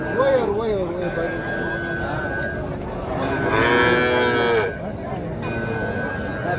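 Cows and calves mooing at a native cattle market, several long drawn-out moos rising over the busy crowd noise and nearby chatter, with one loud close call in the middle.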